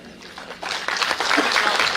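Applause from a crowd after an oath of allegiance is administered at a ceremony for successful civil service exam candidates, starting softly and swelling into a steady, close clapping that fills the room.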